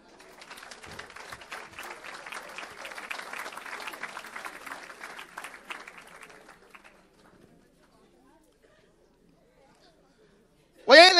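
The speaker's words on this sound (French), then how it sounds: "On acclame Jésus." A church congregation claps and cheers for Jesus for about seven seconds of moderately loud applause, then falls quiet before a sudden loud burst at the end.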